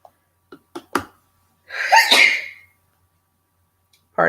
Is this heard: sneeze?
yes